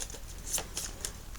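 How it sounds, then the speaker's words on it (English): A deck of playing cards is shuffled quickly during a tabletop game: a brisk riffling burst of crisp, papery flutters with a few sharp snaps, close and moderately loud, with no talking. "get a quick shuffle"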